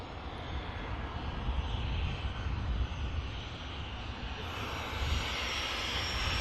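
At Manchester Airport, a plane's engine gives a steady, broad roar throughout, a fairly distant sustained rumble without talk.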